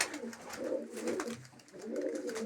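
Several domestic pigeons coo steadily at close range in a soft, layered murmur of repeated throaty calls, with no voices present.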